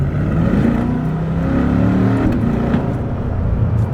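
A Chevrolet C8 Corvette accelerates hard through a traffic circle, its engine droning and rising in pitch from inside the cabin, loud and steady for several seconds.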